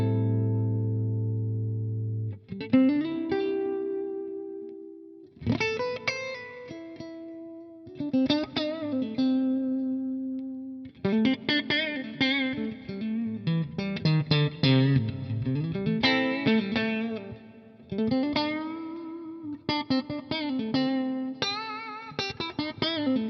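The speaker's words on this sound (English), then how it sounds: "we'll start with my clean sounds. I've got some delay and reverb going from the G System." A clean electric guitar plays through delay and reverb from a G System effects unit, ringing single notes and chords in separated phrases with echoing tails. It is loud and close, with no voices.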